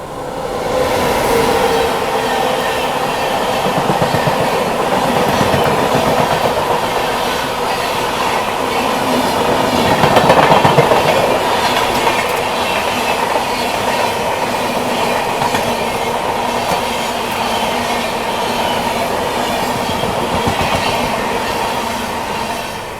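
Chandigarh–Madgaon Goa Sampark Kranti express train passing close by on the line, a loud continuous rumble of rolling wagons with rhythmic wheel clatter and faint squeal, steady for the whole stretch with a slight swell midway.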